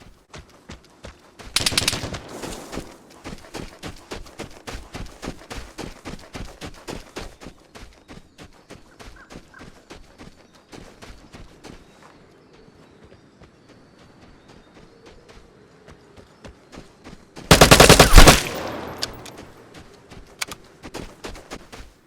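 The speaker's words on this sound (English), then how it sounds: "Now, I didn't hear the RPK, but I did hear an SVD." Gunfire in the video game Vigor, including an SVD sniper rifle: a steady run of rapid, evenly spaced shots with two loud close bursts standing out, no talking.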